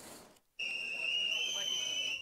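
A shrill, steady whistle blast sounds after a brief pause and holds for about two seconds, loud and piercing above a faint background.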